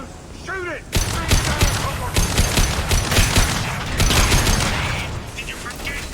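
Gunfire and a fuel tank blowing up in a Mass Effect 2 firefight: a burst of rapid shots and heavy booms after a brief quiet opening, sustained loud crackling blasts and debris for several seconds, with a voice heard faintly over the action.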